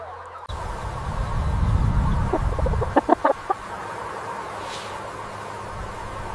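Chickens on an organic free-range chicken farm, with a brief burst of several sharp clucks in the middle over a steady low rumble of farm machinery or ventilation.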